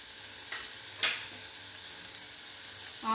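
Green beans drop into a hot pan for vegetable kurma, giving a steady, close sizzle broken by a few brief clinks and stirring scrapes.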